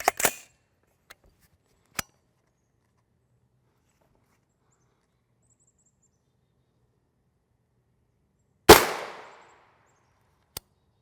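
Two sharp gunshots ring out as L7A1 rounds are fired at a UHMWPE Level IIIA helmet, the second loud with a decaying tail, separated by long silence and a few faint clicks.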